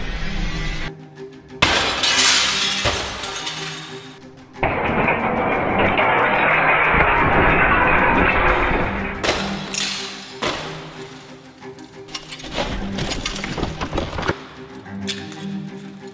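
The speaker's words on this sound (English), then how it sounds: "Eddie, could you please smash the glass?" Burglarproof window glass is being smashed in a test: repeated loud, harsh crashing and shattering blows over many seconds, with a sustained rush of breaking glass in the middle and further heavy impacts after.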